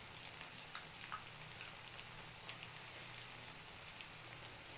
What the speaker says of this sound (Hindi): दरमियानी सी आंच पे इसको आहिस्ता आहिस्ता फ्राई करें